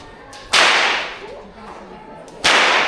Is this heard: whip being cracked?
yes